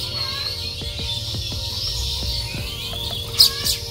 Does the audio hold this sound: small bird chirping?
yes